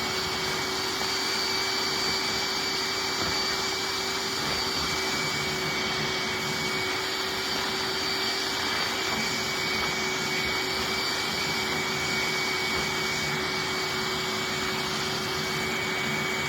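A Hoover wet/dry vacuum cleans a Dirt Devil Ultra Vision turbo filter, a loud, constant motor roar with a steady high whine that runs unbroken from start to finish, with no speech.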